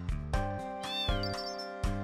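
Cat in the video game Final Fantasy VIII gives a clear, close meow with a bright rising-falling tone over soft background music, alone without talk.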